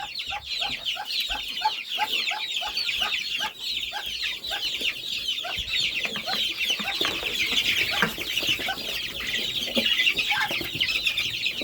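Several young chickens cluck and chatter continuously close by, a busy overlapping flock with bursts of higher squawks.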